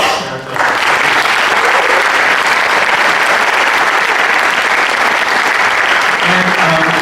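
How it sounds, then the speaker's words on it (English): A room of attendees at a District 8 candidate forum held at South Mountain Community College bursts into loud, dense applause that sustains evenly for several seconds. "Let's all give a big round of applause."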